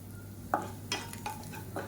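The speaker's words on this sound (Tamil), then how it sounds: "இது கருக விடாமல் நல்லா வறுத்துக்கலாம்" Seasoning vadagam frying in a pan for manathakkali keerai kuzhambu, a soft steady sizzle broken by a few sharp scraping stirs of a spoon against the pan.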